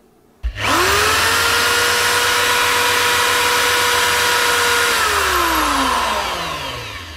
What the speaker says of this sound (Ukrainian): Дрелька працює